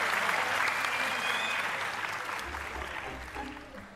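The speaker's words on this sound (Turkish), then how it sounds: "Bunun için alkışınızdan ötürü çok teşekkür ederim." Audience applause after a magician's act at a Turkish talent show, a loud, dense clapping that swells at the start and slowly tapers off over a few seconds.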